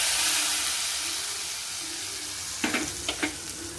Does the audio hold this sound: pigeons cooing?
no